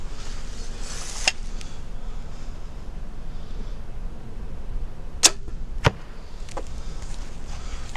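Arrows are loosed from a bow with a trigger release during an archery session, giving a few sharp, brief snaps and thwacks over a steady bed of background hiss and rumble.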